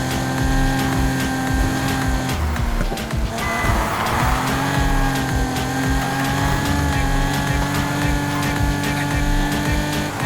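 A Nissan 370Z in Need for Speed Heat, engine droning loud and steady with tonal whine, a burst of tire skid noise midway, then the engine holding on.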